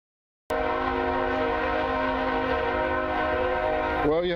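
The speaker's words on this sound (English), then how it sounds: "We've got that train going by." A train rumbles past close by, starting abruptly with a loud, steady roar of stacked tonal horn-like hum and rail noise that holds for several seconds before the pitch bends near the end, in an outdoor field beside a large tree.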